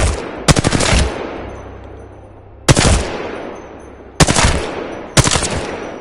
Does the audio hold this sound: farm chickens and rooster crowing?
no